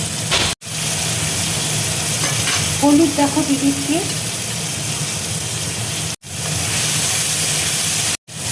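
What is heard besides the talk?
tomatoes sizzling while frying in a pan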